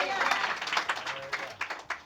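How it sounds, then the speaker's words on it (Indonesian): A church congregation claps and applauds in a sermon setting, a rapid uneven patter of many hands that rises and falls over a couple of seconds. "Berikan tepuk tangan dulu bagi Tuhan kita."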